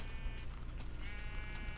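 A Minecraft sheep bleats several times in a row, wavering tones alone over a steady low background hum, fairly faint.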